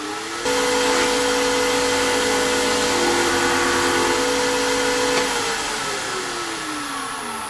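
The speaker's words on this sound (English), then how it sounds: "work this in with the lathe running." A wood lathe spins a beginner's first bowl while finish is worked in, producing a loud, steady motor hum with sustained tonal whine that shifts pitch slightly near the end as the speed changes.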